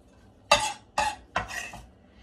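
Onion sauteing in a pan gives three short bursts of sizzle and scraping as it is stirred, close and fairly loud, each fading quickly into near quiet.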